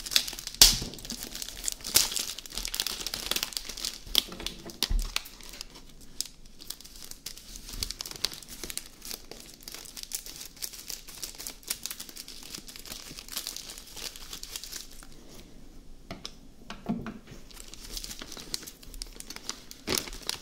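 Plastic bags from a LEGO Attack on Avengers Tower set crinkle and rustle close up as they are handled, soft irregular crackling and occasional tearing, quiet and without talk.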